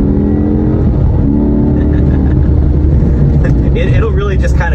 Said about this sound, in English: it has that really cool exhaust note